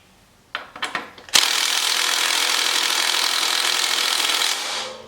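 A power tool loosens the rear axle nut on a Honda XR250R motorcycle: a few short ratcheting bursts, then a sustained loud, harsh whirring rattle that holds for several seconds before easing off, with no talking.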